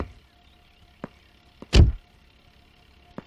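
A car door shuts once with a single firm thud at close range after a few faint knocks and clicks. The setting is otherwise quiet.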